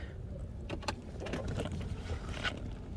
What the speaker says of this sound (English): Now, this blower motor, the bearing on it is bad.